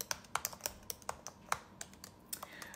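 Someone types on a computer keyboard nearby, an irregular patter of quiet clicks and taps with short pauses, and nobody speaks.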